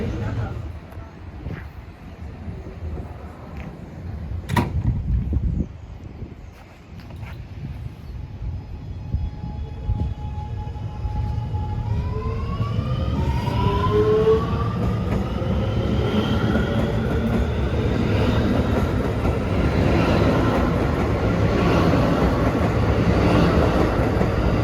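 Subway train cars on the Far Rockaway line run through, starting as a low rumble with clanks, then rising whining motor tones as the train speeds up into a loud, steady roar close by.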